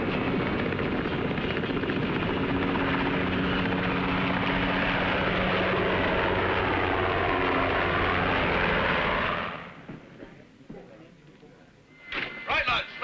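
A search and rescue helicopter lifting off from a Royal Navy ship's flight deck, its loud, close engine and rotor roar holding steady before dropping away sharply, followed by quieter wind and deck noise.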